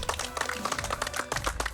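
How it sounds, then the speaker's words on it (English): Scattered clapping from a small audience at a food truck reality show, a quiet, uneven patter of claps continuing for a moment. "And I think all of you, a big round of applause."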